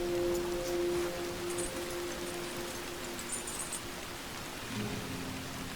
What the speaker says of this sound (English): The rain's really coming in.